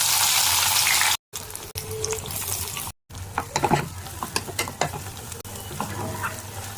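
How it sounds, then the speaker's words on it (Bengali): Capsicum pieces hit a hot pan with a loud, close sizzle over a tempering of cumin, whole garam masala and dried red chilli, then settle into steady frying crackle while a spoon scrapes and stirs in scattered clicks. "এবার দিয়ে দেবো ক্যাপসিকামগুলো।"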